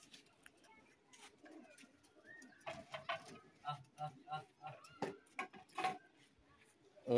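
Captured pigeons coo in low, repeated throaty bursts, close by, with some faint bird calls and background voices mixed in.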